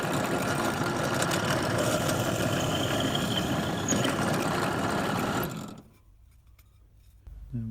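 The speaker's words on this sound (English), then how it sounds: "we'll drill a hole big enough to accept this pencil" A drill bores a hole through a kitchen worktop for a Mercedes Sprinter camper conversion, whirring loudly and steadily for several seconds before stopping abruptly, leaving a quiet room.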